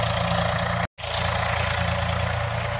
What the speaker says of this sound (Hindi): तो भैया खेतों की हो रही है जुताई